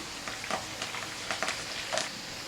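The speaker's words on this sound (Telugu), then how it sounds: "అలాగే సన్నగా కట్ చేసి పెట్టుకున్న ఉల్లిపాయ ఇది కూడా ఫ్రై చేసుకోవాలి" Thinly sliced onions frying in hot oil in a pan, a steady soft sizzle with faint crackles and occasional stirring scrapes, close and continuous, no voices.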